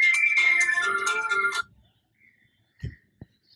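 A mobile phone ringtone plays loudly and close for about a second and a half, then stops abruptly, leaving near silence with a couple of faint thumps.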